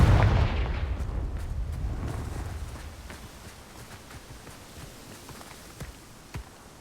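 A Confringo fire spell blast from the Hogwarts Legacy video game: a loud, rumbling explosive burst at the start that decays into a long fading rumble, followed by a few sharp, sparse crackles and pops.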